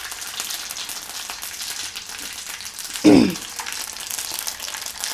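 About two and a half spoons of mustard seeds crackle and sizzle in hot oil for a bitter gourd and lemon pickle after the stove is switched off, a steady close hiss with one sharp, louder burst of spattering midway.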